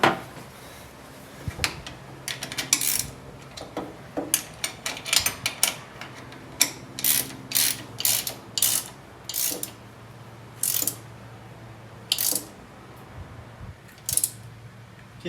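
A ratchet wrench tightens a nut holding the starter on a 1965 VW Beetle during restoration, its close, crisp clicks coming in quick separate bursts with short pauses between strokes.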